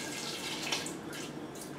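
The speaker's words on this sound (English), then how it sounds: "Gonna make sure the potatoes are covered with the water." Water is poured over potatoes in a pot, a soft, continuous splashing and rushing flow heard faintly and steadily throughout, with no speech.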